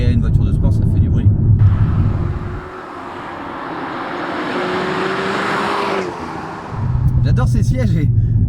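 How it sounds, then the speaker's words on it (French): An Alpine A110 Légende GT sports car drives past, its engine note building into a loud sustained roar for several seconds before dropping away, with someone talking before and after. "Et une voiture de sport, ça fait du bruit."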